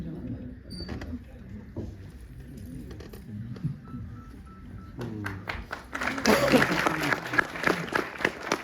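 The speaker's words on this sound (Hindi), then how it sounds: "सुशील मैडम का स्वागत करेंगे, तालियां बजती रहें।" Applause builds near the end of a Delhi Police retirement party, a crowd clapping in a dense patter over murmured talk and background voices, louder in the last few seconds.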